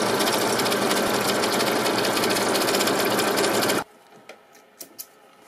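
A sewing machine stitches a fabric face mask, running in a steady, dense, rapid whir for several seconds before stopping abruptly, followed by a few faint clicks and handling sounds.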